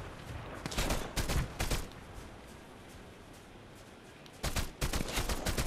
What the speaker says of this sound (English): Being shot at by somebody